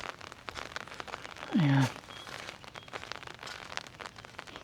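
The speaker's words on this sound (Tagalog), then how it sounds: "Ganito lang yung ulan." Light rain falls in a faint, steady patter and hiss outdoors at a building site, with a brief whistling tone partway through and a short spoken word.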